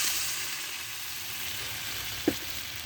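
Steady faint frying sizzle of rohu fish curry cooking with Malabar spinach and taro, a soft continuous hiss with one brief clink near the end.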